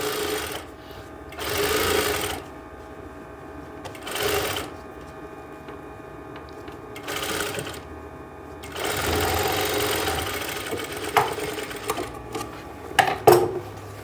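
A sewing machine stitches a full-flare umbrella skirt in several separate runs of rapid, steady whirring, loud and near, with quiet pauses between bursts and some handling clatter near the end.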